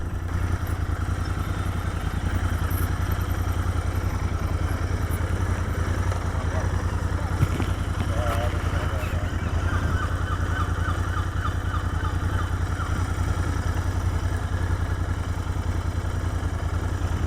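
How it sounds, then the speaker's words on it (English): A 2019 Royal Enfield Interceptor 650 parallel-twin motorcycle idles close by with a steady, even low throb that holds unchanged throughout, and faint chirps and clatter sit in the background. "This is the 650 Interceptor parallel twin."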